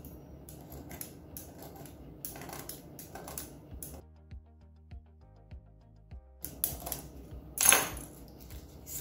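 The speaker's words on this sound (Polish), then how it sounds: "po jednej stronie każdego kawałka przekrajam w czterech miejscach ciast." A knife cuts through soft puff pastry filled with apple and cinnamon, giving a few short crisp slicing crunches with quiet pauses and light kitchen clatter, close and fairly quiet.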